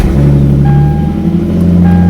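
A car engine and exhaust run steadily at idle after a spark plug, ignition coil and valve cover gasket job. The rumble is loud and close, with a constant low hum and faint tonal whine and no talk.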